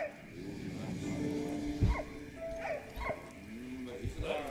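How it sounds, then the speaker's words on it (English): A dog in the video game Valiant Hearts gives soft whimpers and short yips over a steady game soundtrack and ambient hum, fairly quiet and mixed into the background. "Come on, there's a dog right there, pet it."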